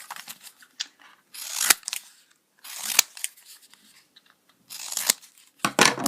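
Scissors cutting out cardboard pieces for a homemade Dilophosaurus model: close, crisp snipping and crunching in several short bursts separated by quiet pauses.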